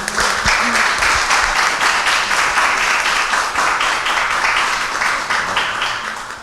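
A full audience claps warmly for a violinist at a music-and-books event, steady dense applause filling several seconds and easing off at the close.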